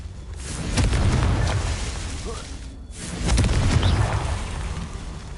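Confringo fire spell from Hogwarts Legacy, the video game: two loud, broad booming blasts with rumbling low end, one after the other, each fading into crackle under background game ambience.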